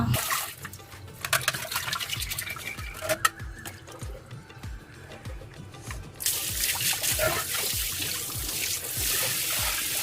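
Clay pots being washed and scrubbed with water: a steady trickle and splash of running water with repeated scrubbing strokes, fairly close and continuous, with the flow growing louder and fuller toward the end.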